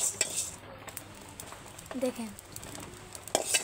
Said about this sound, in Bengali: দেখুন লাড়া দিব চালগুলো